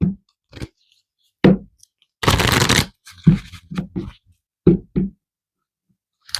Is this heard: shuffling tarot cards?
yes